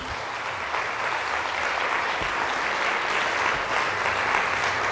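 A church congregation claps together in sustained, dense applause after a scripture reading at a Spanish-language service, steady and moderately loud for several seconds.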